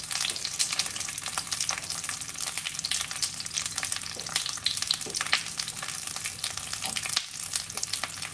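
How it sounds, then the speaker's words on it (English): Short ribs sear in a smoking-hot pan, a dense continuous sizzle and crackle holding steady throughout with faint spatters and no speech. "We're just going to get a real nice good sear again"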